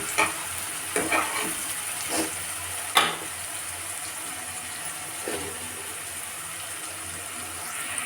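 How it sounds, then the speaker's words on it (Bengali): Onions frying in a pan for a home-cooked desi chicken curry, a steady faint sizzle with a few brief stirring scrapes and clinks scattered through it, no voices. "পেঁয়াজটা আমার লাল লাল করে ভাজা হয়ে গেছে"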